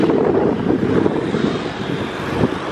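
Wind roars steadily over a Canon SX720HS camera held while riding a motorbike, a loud continuous rushing buffet with no talk.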